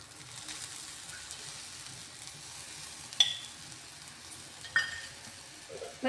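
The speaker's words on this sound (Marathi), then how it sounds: "आपण आता दुसऱ्या बाजूला परतून घ्यायचं आहे आणि थोडंसं तेल टाकायचं आहे" A poha thalipith fries in oil in a pan, giving a soft, steady sizzle with a few sharp crackles and spatula taps rising above it.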